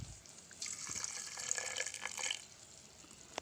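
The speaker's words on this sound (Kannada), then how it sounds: "1 ಲೋಟ ನೀರು ಹಾಕೋಣ" A glass of water is poured into a mixer jar holding masala spices, making a soft, faint splash and trickle that runs for about two seconds and then fades.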